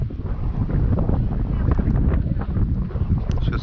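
Wind blows hard outdoors at a fishing-day camp where fish soup is being cooked, a continuous rough low rumble of gusts buffeting the microphone for the whole stretch.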